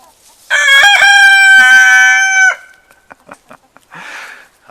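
A rooster gives one loud, close, sustained crow, followed by scattered softer clucks and faint movement noises.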